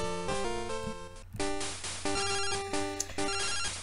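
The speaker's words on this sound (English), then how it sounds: "Oh, phone call." A phone rings in Pokemon Crystal with a bright, chiptune-style ringtone: short beeping tonal phrases repeated in bursts, clear and close with no voices.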